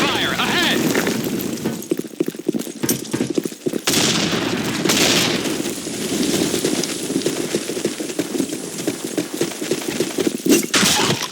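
Dense gunfire from the Blackshot video game, with rapid automatic bursts and sharp single shots crackling almost continuously, mixed with occasional booms and game voice announcements.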